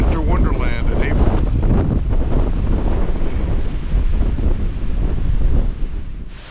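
Strong wind gusts buffet the microphone on an exposed mountain trail in cold April weather, a loud, continuous roar that eases off near the end, with no talking.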